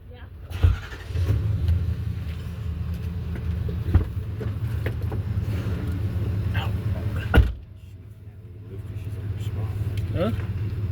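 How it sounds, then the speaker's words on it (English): Deep idling rumble of a monster truck in a parking lot, steady and close, with a brief clunk partway through and voices talking over it. "Well, that's a monster truck."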